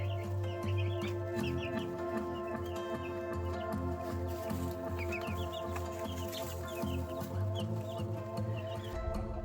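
Chicks in a homemade cardboard box brooder cluck and cheep steadily and close by, with repeated soft peeping calls layered over a constant low background hum.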